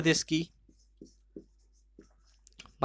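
Chalk or marker tapping and scraping on a classroom board during a Madhya Pradesh geography lesson: a few short, faint strokes spaced apart in a quiet room, with a teacher's voice at the start and end.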